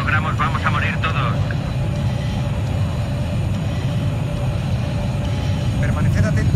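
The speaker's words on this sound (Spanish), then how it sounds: "Se ha avistado un jet enemigo." An enemy jet in the Battlefield 3 video game roars as a steady, loud engine drone that continues throughout. Radio-style voices talk over it.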